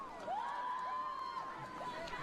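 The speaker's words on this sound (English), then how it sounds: "A lot of cheering going on the sidelines." Spectators cheer and shout from the sidelines of a women's college water polo game between UC Santa Barbara and UCLA, a steady crowd roar with whoops and whistle-like calls throughout.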